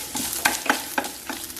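Grated coconut frying in oil over a high flame while being stirred, giving a steady sizzle broken by several sharp scraping strokes of the spoon against the pan, close up with no voices.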